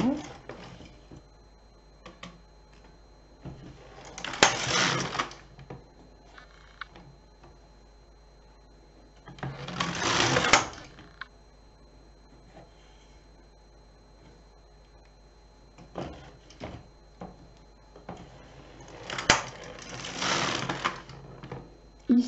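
A domestic knitting machine runs three separate passes across a 26-stitch row for baby socks, each a brief whirring carriage sweep with clicks, set apart by quiet stretches with small ticks and handling noises.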